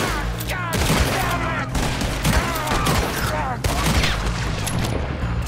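Dense, rapid gunfire rattles continuously in close, heavy volleys with brief gaps, loud and overlapping, while voices shout faintly beneath the barrage.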